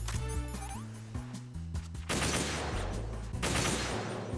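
PSG-1 sniper rifle shots in Metal Gear Solid 2 VR Missions, with a couple of loud bursts of gunfire and impact noise layered over prominent electronic game music.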